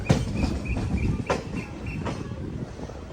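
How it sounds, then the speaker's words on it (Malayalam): A passenger train rolls into Bhusawal Junction railway station, its wheels clattering in a steady rhythmic clickety-clack with faint squeals over a loud rumbling roar, heard close from on board. "ഭുസവാൽ ജംഗ്ഷൻ റെയിൽവേ സ്റ്റേഷനിലേക്ക് ഇതാ നമ്മുടെ ട്രെയിൻ എത്തിക്കൊണ്ടിരിക്കുകയാണ്."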